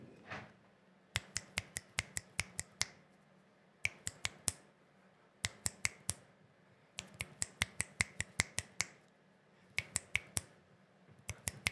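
Crisp finger snaps ring out close and loud in quick rhythmic bursts of four to eight, separated by short pauses, against a quiet background with no talking.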